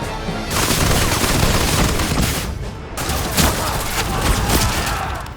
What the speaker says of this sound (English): The first round of rockets shot into the sky like a rain of fire